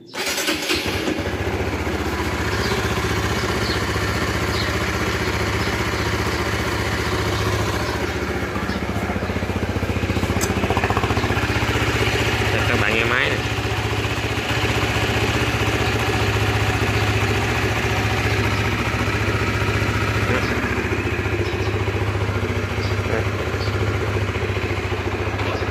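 A Honda Winner 150 motorcycle with about 8000 km on it idles steadily for the whole stretch, a close, even, mid-pitched engine drone with a slight rise in revs partway through.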